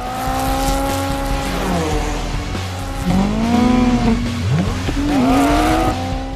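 Drag race start with a 2004 Scion xB, engines revving up through rising gear pitches, tires squealing and another car shifting near, loud and close with no talk.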